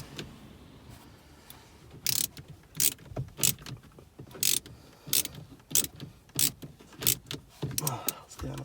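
Screws being fitted back in by hand while installing an upgraded 8.8-inch screen in a BMW F20/F21 1 Series, heard as a run of close, sharp clicks and mechanical taps in irregular bursts over a quiet background.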